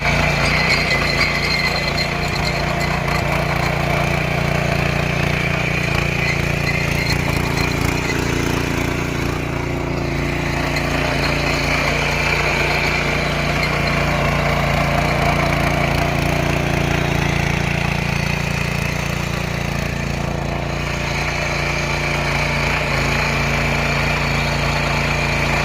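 A 7.5 hp power tiller engine runs steadily while tilling soil in first gear, a loud continuous motor drone with rattling vibration that holds without letup for the whole span and no talk over it.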